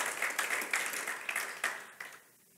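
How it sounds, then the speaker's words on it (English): An audience on its feet applauding, a short burst of many hands clapping in quick rhythmic waves that fades out over about two seconds. "I didn't expect you guys to stand up and applaud me for going"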